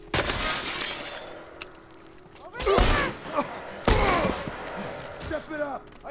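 Rifle gunfire during a firefight in The Last of Us Part I: two sharp, loud bursts of shots stand out against ongoing combat noise, while people talk throughout.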